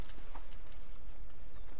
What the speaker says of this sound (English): Yeah, that's my horse, sir.